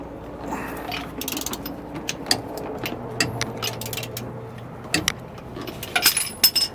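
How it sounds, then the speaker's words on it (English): A ratchet wrench fitted with a 1 1/8 inch socket clicks in uneven bursts while loosening tight bolts on a Roadmaster Exact Center steering stabilizer, worked by hand on the ground, with scattered clanks and no talk. "have a 1 1/8 inch socket that we're going to use to remove these"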